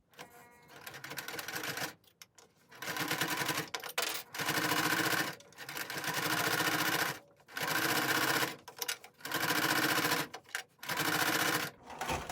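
A sewing machine stitches along the edge of a fabric mask in several loud, fast-running bursts of a few seconds each, separated by short pauses.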